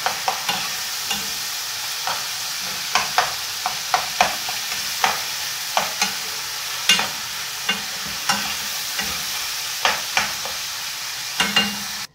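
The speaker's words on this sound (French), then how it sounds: "vous les cassez bien, vous découpez bien avec votre cuillère pour faire des tout petits morceaux" Ground beef for homemade tacos frying in a pan while a spoon breaks it into small pieces, with a steady sizzle under repeated sharp scraping taps of the spoon, no talking.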